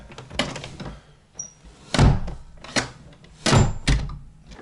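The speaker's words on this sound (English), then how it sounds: "I got to fight to get this one closed." A stiff interior door being forced shut in a home: several heavy thuds and scraping bumps as it is pushed against resistance, close and loud, with no talking.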